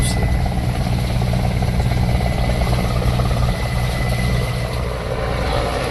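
A helicopter drones steadily nearby, heard from a boat on the water, its rotor thump and engine roar filling the whole stretch at constant loudness.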